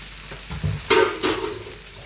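Fish cooks in a pan of Kerala avial curry, with soft stirring scrapes and a couple of short sizzling bursts close up over a quiet background.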